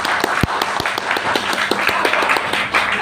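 Applause from an audience at a student community-service briefing for lecturer Bu Zahra, a steady patter of many hands with a few sharper claps standing out, moderately loud and continuous.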